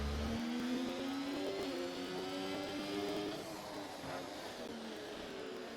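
Formula racing cars at the Baku street circuit, one chasing a Ferrari, engines whining at high revs in a steady, close, continuous roar with rising pitch sweeps as they accelerate.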